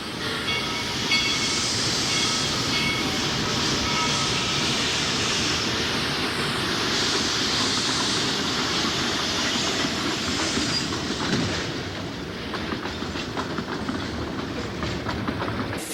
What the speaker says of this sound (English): another local pulls into the yards